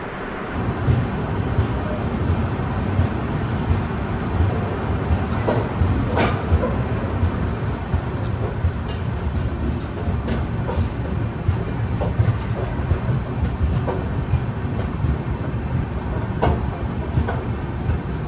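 The Howrah–Mumbai AC Duronto Express rolls along the rails, heard from inside the coach as a steady, continuous rumble with scattered wheel clicks and clacks throughout.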